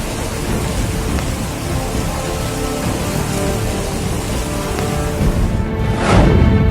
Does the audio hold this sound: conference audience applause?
no